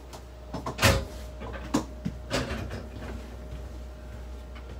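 Travel trailer door on a Palomino Revolve being opened, a few sharp clicks and clunks of the latch and door spaced over several seconds, close and fairly quiet.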